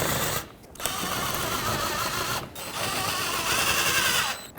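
Ratchet tightening screws on the shields around the washer tank of a 2007-2009 Saturn Aura, a rapid clicking mechanical whir in several bursts separated by short pauses, close and moderately loud.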